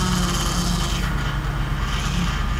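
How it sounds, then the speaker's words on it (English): A loud, steady mechanical whine and grinding drone runs continuously from a box truck's engine bay, with a rough, strained tone from a power steering pump low on fluid. "that sound says we're low on power steering fluid"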